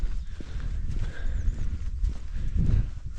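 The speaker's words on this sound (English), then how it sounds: "Getting close to the horses though." Horses walk on the island of Inis Mor, their hooves clip-clopping in a steady, faint rhythm against a constant rush of wind.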